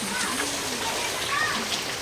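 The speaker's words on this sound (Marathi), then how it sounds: "कसा आहे पाऊस?" Steady monsoon rain pouring down outdoors during a rainy-season downpour, a dense continuous hiss of falling water with faint background voices underneath.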